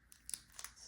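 A sticker being carefully peeled away from wax-paper backing of strong-adhesive label paper, giving soft crinkly tearing bursts that come in several short, close pulls.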